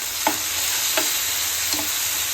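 Chopped onion and tomato sauté in a pan for a hotel-style masala dosa filling, a soft steady sizzle with three light scraping stirs spaced evenly apart.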